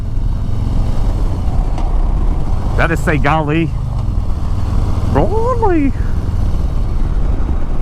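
Harley-Davidson Low Rider S motorcycle engine braking on a downshift during a test ride, a steady loud engine and wind rumble running throughout while someone talks over it.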